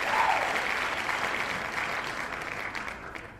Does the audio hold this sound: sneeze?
no